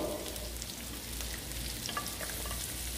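Chicken frying in a pan until golden gives a steady, even sizzle throughout, moderately close, with no voices over it.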